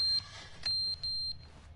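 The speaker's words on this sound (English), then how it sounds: "The smoke detector is finally dying." A dying smoke detector in the video game The Stanley Parable gives off thin, high electronic beeps in short repeated bursts, with faint tones running alone and quietly.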